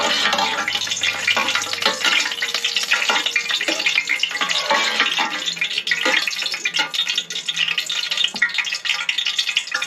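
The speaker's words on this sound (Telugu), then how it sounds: "గోల్డ్ కలర్ వచ్చారా ఫ్రై చేసుకుంటున్నాను" Vegetables frying in hot oil for a first-time veg biryani, a steady dense sizzle and crackle filling the whole stretch with occasional stirring scrapes, close and continuous with no talking.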